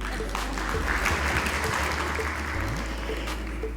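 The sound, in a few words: audience applause for a medical doctor at Merck Foundation event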